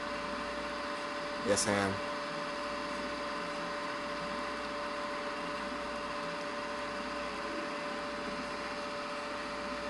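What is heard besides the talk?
Puma engine revving at full rev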